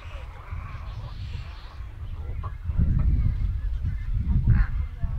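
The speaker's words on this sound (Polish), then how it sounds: "Jest tu mnóstwo ptaków." A crowd of birds on an island in Lake Victoria honks and calls continuously, goose-like cries layered close and far over a low rumbling background.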